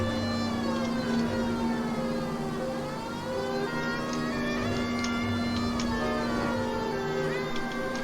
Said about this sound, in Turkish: Sirenleri açtım, geliyorum hemen.